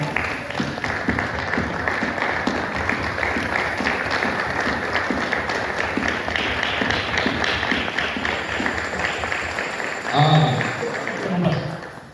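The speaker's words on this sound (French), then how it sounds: "Est-ce que nous pouvons se lever et applaudir pour la parole de Dieu rapidement?" A church congregation at a Sunday service stands and applauds, dense loud clapping filling the space steadily, with a brief swell of voices near the end.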